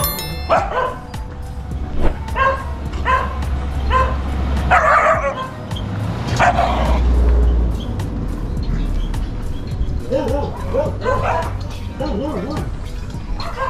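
Guard dogs barking at a gate along a steep residential road, giving repeated barks and yips at close range over a low rumble of passing traffic.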